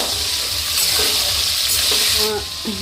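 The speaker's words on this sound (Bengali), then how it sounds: "টমেটোটা ভাজা হয়ে গেছে" Tomatoes frying in a pan for vegetable khichuri, a loud steady sizzle with stirring scrapes and a few clinks against the pan, no talk.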